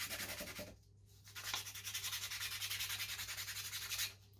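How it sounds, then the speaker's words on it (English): A 3D printed PLA part is hand sanded with 120 grit sandpaper, giving steady rhythmic rubbing strokes that start after a short pause and continue close up, with no talking. "And you just want to sand. And just go around the print."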